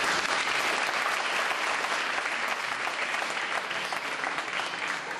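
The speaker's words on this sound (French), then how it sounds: "Ça mérite sans aucun doute un applaudissement." Sustained audience applause at a general assembly, dense, even clapping from a crowd lasting the whole stretch at moderate volume, without talk over it.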